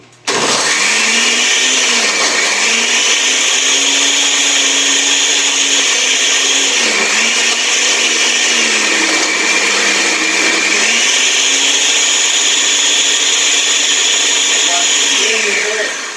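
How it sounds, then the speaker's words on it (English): Countertop blender running loud and steady on mushroom tikka masala ingredients with no added liquid, its motor whine rising and dipping as the load shifts, continuous throughout. "But start off just blending it without any other liquids first."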